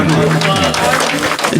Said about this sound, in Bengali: জোরে হাততালি হোক একটু